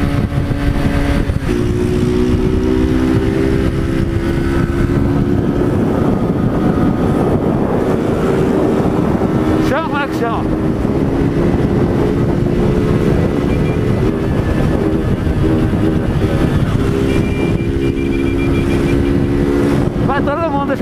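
A 2022 Honda motorcycle with a new aftermarket exhaust rides through traffic. Its loud, steady engine drone rises and falls in pitch as it shifts and accelerates, with heavy wind buffeting throughout.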